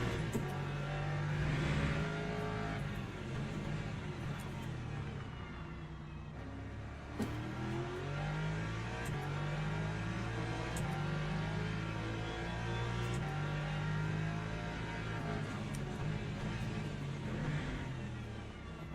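Hypercar engine in the Le Mans Ultimate racing game, a continuous high-pitched race engine revving and shifting through gears, steady and fairly loud, with no talk over it.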